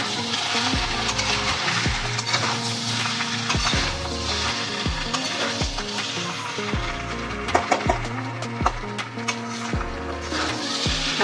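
Boal catfish pieces sizzle in a pan for a curry with eggplant while a spatula stirs and scrapes in repeated strokes, with steady tonal music playing underneath.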